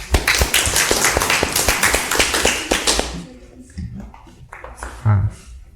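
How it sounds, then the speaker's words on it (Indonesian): A primary school class claps together after a running drill in a PE lesson, a burst of quick, loud, rhythmic handclaps that stops after about three seconds, leaving scattered faint sounds and a brief voice. "Bagus, tepuk tangan."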